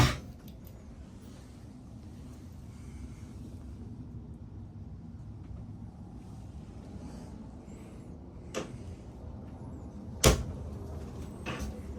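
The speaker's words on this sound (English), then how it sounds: "all the drawers have this like very satisfying click when they go back into position" Drawers in a 2025 Keystone Coleman 17B travel trailer sliding shut, with two sharp clicks near the end over a quiet room hum.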